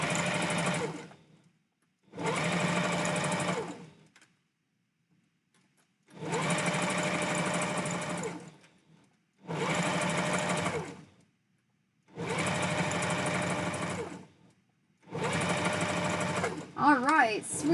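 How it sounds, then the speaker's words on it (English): Sewing machine stitching fabric pieces together for a plush husky tail, six loud steady mechanical runs of a couple of seconds each, separated by silent pauses. "Now we get to sew these pieces together."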